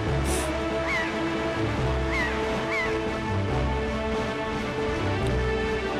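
Seagulls calling in the video game The Legend of Zelda: The Wind Waker, a few short squawking cries at sea over a dense, continuous musical and ambient background.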